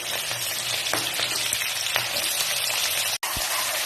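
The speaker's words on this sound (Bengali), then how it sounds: "এর মধ্যে বিনস আর গাজরের কুচিগুলো আগে দিয়ে দিচ্ছি, দিয়ে একটু ভাজা ভাজা করে নিচ্ছি" Chopped beans and carrots frying in hot oil for vegetable fried rice, giving a loud, dense, continuous sizzle up close, with a few faint knocks of stirring and a brief dropout near the end.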